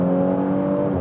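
A sports sedan's engine holds a steady, buzzing drone for about a second, loud and close, with no voices.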